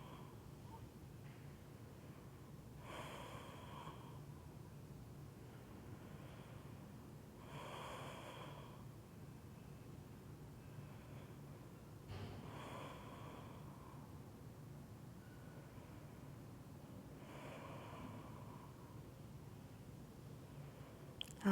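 Slow, deep breaths drawn during a held pose in an evening vinyasa yoga session for beginners, four soft airy inhale-exhale swells spaced about five seconds apart, close and quiet over a low steady room hum.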